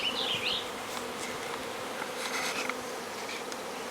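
A swarm of honey bees hums steadily at close range, a dense continuous buzz with individual bees flitting nearby, no talking.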